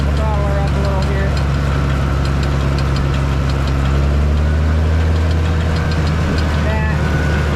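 A tractor engine runs a PTO-driven feed grinder and auger, a loud, steady rumble that holds throughout with a slight rise in pitch as it is throttled up, while someone talks over it.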